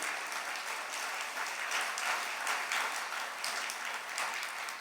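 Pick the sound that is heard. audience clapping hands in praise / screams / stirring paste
audience clapping hands in praise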